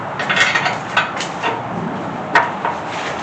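Short metallic clicks and ratcheting knocks come from jacking up a Small Block Chevy 350 engine, several irregular taps and scrapes close by, fairly loud against a quiet workshop background.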